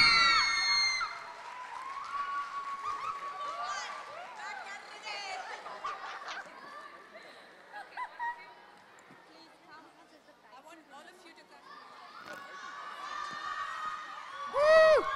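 A crowd at a prize presentation for the Texas Kalakaar title winners cheers loudly, with shouts, whistles, laughter and chatter rising and falling throughout, swelling again near the end.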